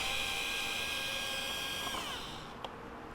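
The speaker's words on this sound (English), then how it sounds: "I can get my driver in here." An Ozito cordless driver whirs steadily at close range while driving screws during a BMW R1250GSA accessory install, its motor whine holding for about two seconds before spinning down, followed by a single short click.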